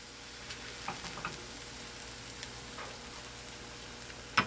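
A keto coconut flour tortilla cooks in a pan after being flipped, giving a soft, low, continuous sizzle with faint crackles and a sharp scrape near the end, no speech.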